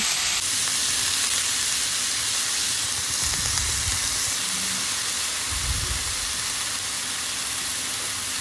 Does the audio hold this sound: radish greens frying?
yes